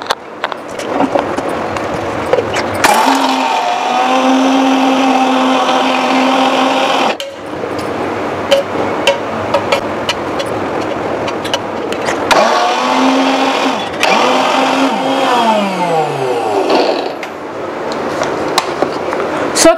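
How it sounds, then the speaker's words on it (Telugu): A mixer grinder blitzing dry fruits, nuts and cardamom for homemade baby cereal powder: loud close whirring motor bursts, cutting out briefly between runs with rattling contents, no speech over it. "సో మిక్సీ పట్టడం అన్నమాట."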